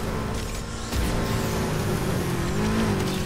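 A 2010 Subaru WRX STI rally car in a Need for Speed race game, its engine roaring loud and continuous with rising revs and a faint tire hiss, close up and with no talk.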